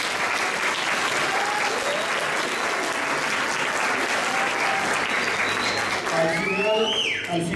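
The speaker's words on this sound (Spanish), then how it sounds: "Un aplauso, por favor." Conference audience applauding, dense steady clapping from a seated crowd, with speech rising over it near the end.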